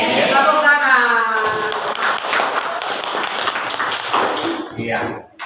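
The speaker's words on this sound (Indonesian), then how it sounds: "Tepuk tangan." Children in a classroom clapping their hands together in a steady burst of close applause, with voices chattering over it.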